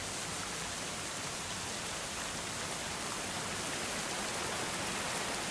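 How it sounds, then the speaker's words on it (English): Heavy rain pours in the medieval castle-building game Going Medieval, a dense, steady hiss that fills the whole stretch without a break and with no voices over it. "Oh, that rain is loud."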